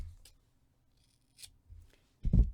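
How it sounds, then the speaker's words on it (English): Scissors snipping crochet yarn: a few faint, brief rasps and clicks in a quiet room, ending with a louder, close snip. "Cut my yarn and tie off."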